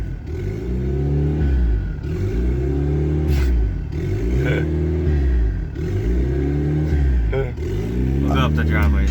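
A turbocharged stock F22 engine in a Honda Accord runs with a steady low rumble and rhythmic pulsing swells while the car moves slowly up a driveway, loud and close throughout.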